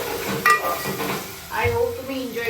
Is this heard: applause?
no